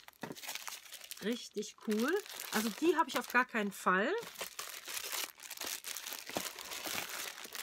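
Plastic bags crinkle and rustle repeatedly while a parcel is unpacked, close and fairly loud, with someone talking over much of the handling.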